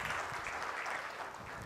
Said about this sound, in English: A round of applause for George as well